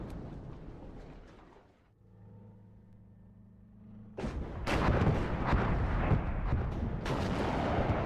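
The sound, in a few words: artillery fire in video game WARNO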